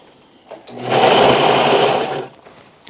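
A Vevor industrial sewing machine stitching fabric runs in one loud, steady burst of about a second and a half, a continuous close whirring hum that starts and stops abruptly between quieter pauses.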